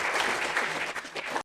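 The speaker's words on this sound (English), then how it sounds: "Let's give you a round of applause." A seated audience at a 2024 Singapore market outlook and feng shui seminar claps together, a dense, fairly even patter of many hands that cuts off abruptly.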